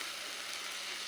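Onions, tomatoes, green chili and bay leaf sizzle in a pan as a home cook prepares them, producing a steady, close, even hiss with no talking.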